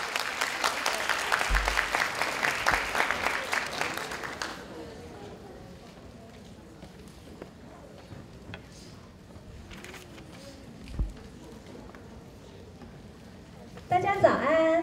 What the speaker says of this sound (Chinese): 让我们掌声鼓励，欢迎老师